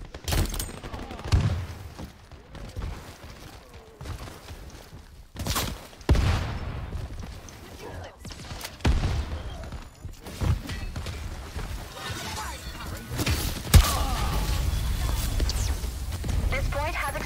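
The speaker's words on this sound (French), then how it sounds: "Deux balles dessus, j'ai tiré." Shots ring out in the free-to-play shooter Shatterline as scattered sharp bangs and thuds between stretches of quieter action, with someone talking over much of it.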